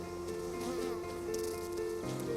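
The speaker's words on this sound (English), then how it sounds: "You're covered in bees." Swarm of honeybees buzzing densely around beekeepers opening a hive, a steady close droning hum with insects passing near, continuous and loud.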